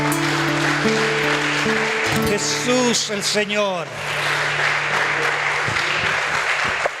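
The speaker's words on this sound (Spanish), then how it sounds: "Dale un fuerte aplauso al Señor." A congregation at a Sunday church service claps steadily throughout, a dense continuous applause under a voice speaking and singing through a microphone.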